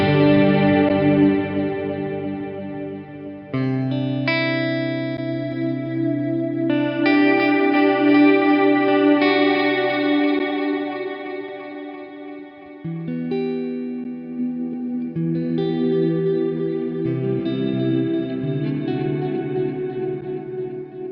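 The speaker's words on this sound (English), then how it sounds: "let's turn on reverb and delay with the patch" An electric guitar plays through a Valeton GP-5 patch with reverb and delay. Sustained chords and ringing notes change every few seconds, their tails echoing and washing into each other at a loud, even level.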